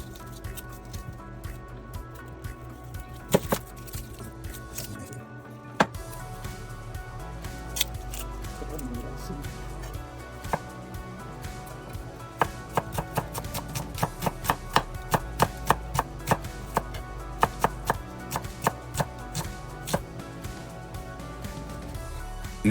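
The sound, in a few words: knife cutting lime wedges and shallots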